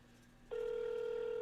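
A steady electronic ring tone from an outgoing call on a new podcast hotline phone, starting about a third of the way in after a low hum and holding as a continuous, fairly loud tone.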